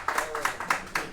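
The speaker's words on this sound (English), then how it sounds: "Let's give her a round of applause" Sparse, rhythmic hand clapping in a church congregation, about five distinct evenly spaced claps from a few people, fairly close and light.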